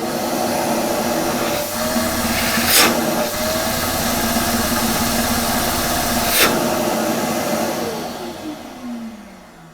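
A Karcher WD 2 Plus wet/dry vacuum runs steadily after a DIY repair, a loud continuous motor whine with a couple of brief bumps before it winds down and fades near the end.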